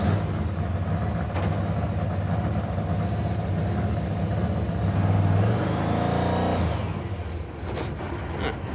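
A car engine idles too fast because of a sticking throttle, a steady loud drone with a low hum that climbs and revs up briefly before dropping away near the end.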